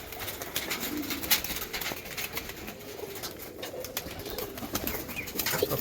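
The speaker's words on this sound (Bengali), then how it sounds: "দেখুন পায়রা, তা এখানে 80 পিসের মতো পায়রা আছে" Around eighty racing pigeons, mostly Andhra breed with some Madrasi, coo steadily and close by in a home loft, with occasional wing flaps amid a dense flock murmur.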